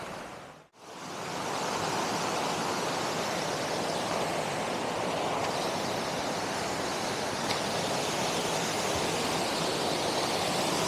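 A small waterfall cascading in the woods gives a steady, broad rushing roar, loud and continuous after a brief dip at the start.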